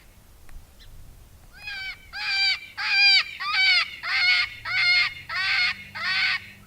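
A Lucky Duck Revolt electronic predator call plays its cottontail sound at level 4, giving eight loud, evenly spaced, harmonic honking cries in a steady rhythm that build quickly and then hold strong.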